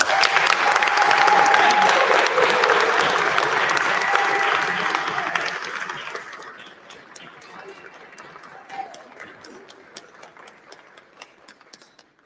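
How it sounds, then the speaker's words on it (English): An audience at a mayoral candidate forum gives student questioners a round of applause. The clapping is full and dense at first, fades after about five seconds, and trails off into a few scattered claps. "Let's give them a round of applause."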